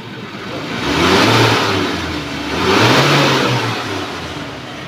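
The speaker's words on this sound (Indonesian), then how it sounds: "kalau kita geber suara mesin, dia masih aman" A 2016 Suzuki Carry Futura pickup engine revs up twice, each surge rising to a loud, steady drone before easing back, heard close and alone with no voices.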